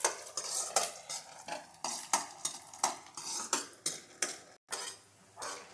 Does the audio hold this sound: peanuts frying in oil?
yes